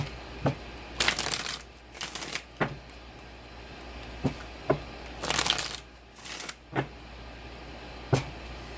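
A deck of tarot cards is shuffled by hand in several quick riffling bursts, with soft taps and knocks between them, close and moderately quiet, with no talking.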